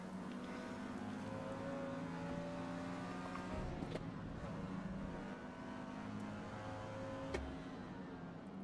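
A race car in Forza Motorsport drones along at steady high revs, with a brief dip and blip of the engine as it downshifts, loud and continuous with no talking.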